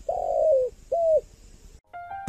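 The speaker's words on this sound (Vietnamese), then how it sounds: "yêu sao tiếng gáy chim cu" Two soft, hollow spotted dove coos come close together, followed by a short higher call, with quiet background between.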